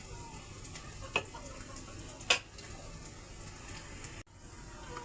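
Onion, garlic and chili sautéing in a pan for squid adobo, giving a quiet, even sizzle with a couple of sharp clicks of a utensil against the pan.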